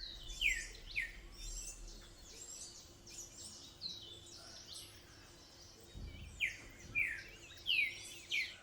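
An Andean cock-of-the-rock calls at feeders in Jardín, Colombia, giving a series of sharp, squawking chirps that come in bursts with pauses, moderately loud over a quiet background.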